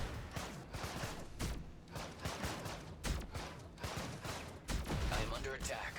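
Weapons fire in the sci-fi real-time strategy game Meridian Squad 22 comes as dense, loud bursts of gunfire and blasts in rapid repeated volleys, with a voice partly mixed in.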